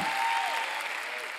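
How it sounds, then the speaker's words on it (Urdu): An audience at a sermon or talk claps in a dense, steady burst of applause that fills the room, loud and close at first, then thinning slightly, with no talking over it. "آپ نے تالیاں بجائی، اچھا ہے۔"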